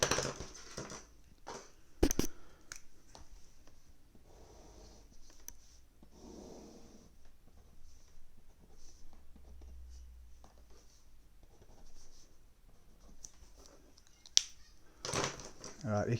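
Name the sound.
pencil sketching a graph on paper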